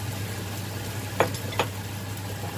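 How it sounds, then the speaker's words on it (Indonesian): Tofu and chilli pieces being fried and stirred in a pan: a constant low sizzle with two sharp scraping clicks from the stirring, no voices. "Kita aduk-aduk."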